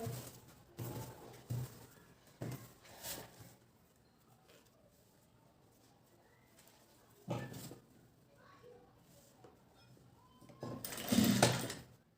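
A sewing machine stitches a blouse shoulder seam in short, quiet bursts with pauses between them, ending in a louder, longer run of rapid stitching near the end. A faint voice and light handling sounds occur in the gaps.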